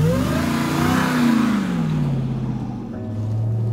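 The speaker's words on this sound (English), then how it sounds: "at full throttle, the engine sounds like the angry love child of a machine gun turret and a jet turbine" A 702-horsepower 2021 RAM TRX pickup engine revs hard at full throttle nearby, its pitch climbing and then falling in a loud, throaty roar, in Northern Ontario winter.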